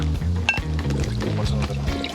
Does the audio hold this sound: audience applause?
no